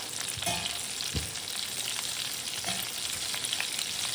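Eggplant kulambu sizzles and fries steadily in a pan, with a few clear scraping stirs and clinks standing out over the continuous hiss.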